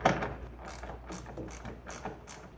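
Close ratchet clicks from tightening the door panel bolts on a 2011 Mazda CX-7, coming in several quick bursts of rapid pawl clicking with short pauses between strokes and no talk.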